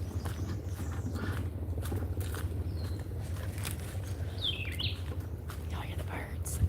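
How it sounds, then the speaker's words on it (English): Birds chirp in short scattered calls outdoors near fresh water where crocodiles live, faint and fairly distant over a steady low rumble and rustling. "Y'all hear the birds."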